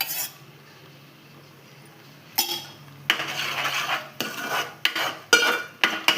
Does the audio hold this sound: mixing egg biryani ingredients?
yes